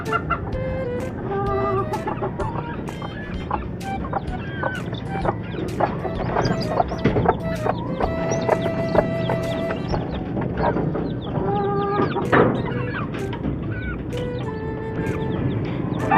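Day-old chicks being given sugar water, with a constant mass of peeping and clucking from poultry close by and a voice talking at times beneath it.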